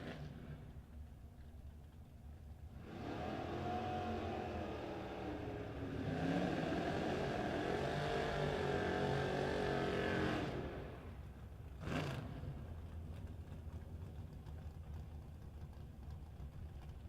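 No Box 660 drag race cars launch and accelerate down the strip. A rising engine roar swells for several seconds, then fades, heard from a distance over faint background noise with no talk.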